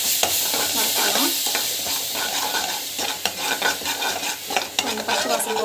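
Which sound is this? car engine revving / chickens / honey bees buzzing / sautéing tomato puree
sautéing tomato puree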